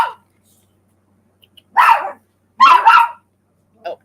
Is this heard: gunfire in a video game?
no